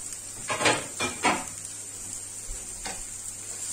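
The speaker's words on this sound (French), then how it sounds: "Donc, je laisse cuire les champignons" Fresh mushrooms cook in a pan with a steady faint sizzle, broken by a few brief clinks and scrapes of utensils near the start.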